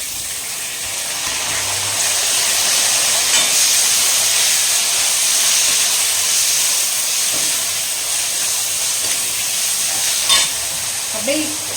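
Shallots and tomato sizzle steadily in a pan over a high flame, a loud, dense frying hiss that runs continuously with occasional stirring clatter.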